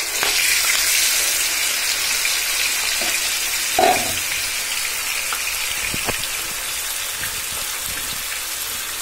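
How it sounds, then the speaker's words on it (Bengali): Chicken pieces fry in very hot oil with a constant, close, rain-like sizzle and crackle, with an occasional clatter of pieces or utensils breaking through the steady frying. "তেল একদম গরম হয়ে গেছে, এখন আমি চিকেনগুলো দিয়ে দিচ্ছি"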